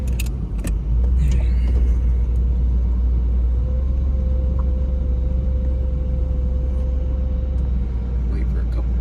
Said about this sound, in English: let's take this 91 1LE Camaro out for a little ride